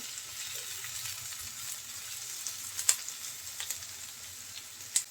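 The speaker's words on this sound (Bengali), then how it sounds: "পেঁয়াজ দেওয়ার পর আমি নেড়ে চেড়ে এক মিনিটের মতো ভেজে নিয়েছি করলা" Bitter gourd and onion frying in a pan, a faint even sizzle with a few light stirring clicks and scrapes toward the end, no one talking.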